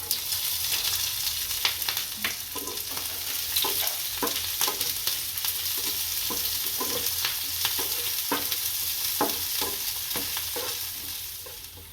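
Green chilies and mustard seeds fry in hot oil, a steady loud sizzle with sharp crackles and pops scattered across it and the scrape of stirring, no voices.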